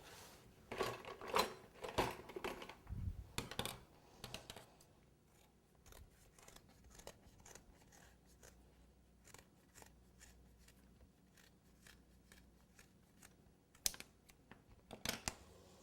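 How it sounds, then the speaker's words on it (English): Scissors snip through a cake board at close range, a burst of sharp crisp cuts at first, then quieter scattered clicks and handling noises, with no talking. "let me grab some scissors here, and I can cut the board down now a little bit"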